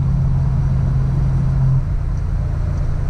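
A Back to the Future DeLorean time machine replica with an automatic gearbox cruises along a public road, heard from inside as a steady, close engine and road rumble with a low hum that drops slightly partway through.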